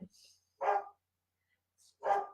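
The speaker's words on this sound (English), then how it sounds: "hang on, I'm going to yell at the dog." A dog gives two sharp, separate barks about a second and a half apart, close and fairly loud, with quiet gaps between them.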